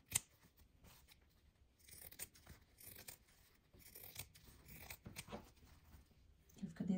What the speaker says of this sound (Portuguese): Tô cortando agora para ficar mais fácil para você entender como que ele fica.